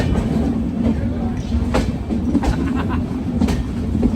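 Constant low rumble of a train rolling along the tracks, with sharp clicking knocks from the wheels at irregular intervals, heard close up.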